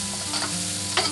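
Shallots and garlic fry in a pan while being stirred, a steady close sizzle with a couple of brief scraping strokes, no voices.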